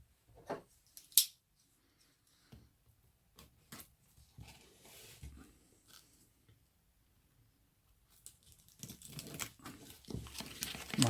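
A utility knife with a worn blade slices through plastic packaging on a Linx Vision 8-inch gaming tablet box, giving sparse close scratches and snicks, then a denser rasping cut near the end.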